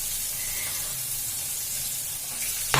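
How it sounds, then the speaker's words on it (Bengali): Green chilies fry in a hot wok with a steady, dense sizzle and hiss that holds evenly throughout, close and fairly loud, with no voices. "লঙ্কাগুলো কড়াইতে দেওয়ার পরে এত ফাটলো"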